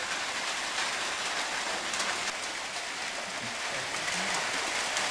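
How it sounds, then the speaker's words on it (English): Steady rain falls around an old converted railway station, a dense, even hiss of drops on surfaces that holds constant and fairly soft, with no voices. "Rain settled in with a real rainbow."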